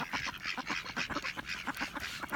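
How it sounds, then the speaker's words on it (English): Ducks quack in a rapid, repeated chatter at a snowy winter cove, a string of short calls at moderate distance with no talking. "And the ducks think he's food."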